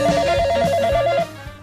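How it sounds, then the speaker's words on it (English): Telephone ringing sound effect on a radio show, a steady electronic ring tone trilling for about a second over a rhythmic music bed before cutting off. "The Yak Shack line is ringing."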